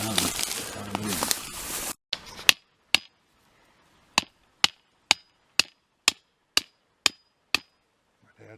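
A hammer drives a stake into the ground outdoors while searching for a well site. It lands about ten sharp, evenly spaced blows with quiet gaps between them, following a brief stretch of louder noise.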